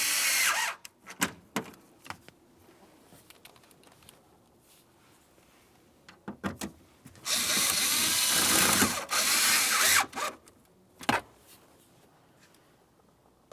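A power drill runs down 7mm-head mounting bolts on the automatic transmission shift lever of a 2000-2006 Chevrolet Tahoe. The drill comes in short bursts and then longer whirring runs, with ratchet-like clicks and handling noises between them.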